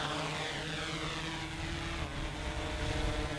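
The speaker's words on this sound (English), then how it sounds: "I'm going to hit the takeoff button. I'm going to slide it, and it'll lift itself off." A small consumer drone takes off and flies, its propellers giving a steady, dense buzzing whine that stays loud and close throughout, with no voices over it.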